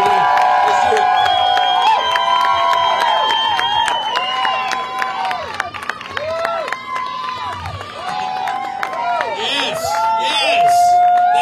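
Crowd at a political bus-tour rally in Las Vegas, a dense wash of many voices with whistles and shouts layered over sustained crowd noise, continuous and loud throughout; no clear rhythmic chant pattern stands out.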